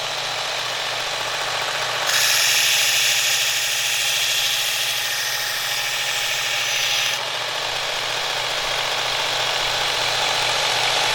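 A Work Sharp Ken Onion Elite MK.2 knife sharpener grinds a knife blade: a steady motor hum runs throughout, with a harsher, louder grinding rasp swelling over it for about five seconds before easing back to the idle whir.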